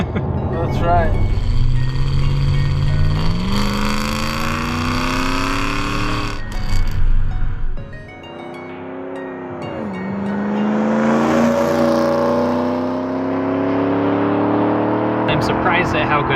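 Inside a Mercedes 500E with a cat delete, the engine drones loudly and its pitch climbs and falls as the car accelerates and shifts, while people talk over it.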